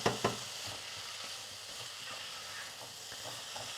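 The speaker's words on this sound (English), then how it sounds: "now I'm going to add in the sweet potato, and then I'll just quickly give it a little mix just to warm it up" A spoon stirs chunks of sweet potato through browned onions and ginger in a soup pot, giving soft scraping and a gentle sizzle after two sharp knocks at the start.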